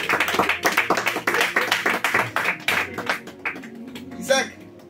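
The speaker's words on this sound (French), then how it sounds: "On acclame les enfants." An audience applauds children at a lively gathering, with dense, steady clapping close by that carries throughout and mixes with voices talking and calling out, then thins briefly near the end.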